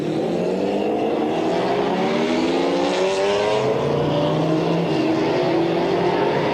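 GT race cars from the 1995 BPR Global GT Series, a Ferrari F40 among them, roll through the pace lap at Jerez. Loud, overlapping engine notes rise and fall together in a dense, continuous drone.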